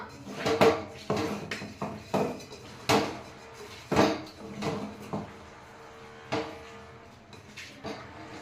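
Biryani is stirred and mixed in a metal pot, with repeated sharp scrapes and clanks of a spoon against the sides, roughly one hit per second, close and clear with quieter scraping between.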